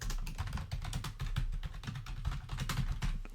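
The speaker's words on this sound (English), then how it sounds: "Ignore the mechanical keyboard." Rapid, continuous keystrokes on a mechanical keyboard clatter at a quiet, close level, with no voices over them.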